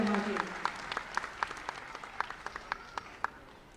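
An audience at the Ahmedabad city police summer camp closing ceremony claps to welcome Gujarat's Chief Minister; scattered, fairly faint hand claps ring out in an uneven rhythm after a voice trails off at the start.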